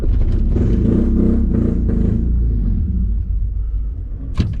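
An H22-swapped car engine rumbles and revs loudly and unevenly, then sags and dies down as it stalls, with a brief sharp clatter near the end.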